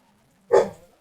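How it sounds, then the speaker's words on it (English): A single short, sharp bark from a dog indoors, loud and close against an otherwise quiet room. "Oh, the dog's freaking out again."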